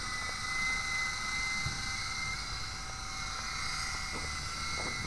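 A Silverlit V-150 RC helicopter flying, its small rotor and motor giving a steady thin high-pitched whine with a constant buzz, fairly faint and continuous throughout.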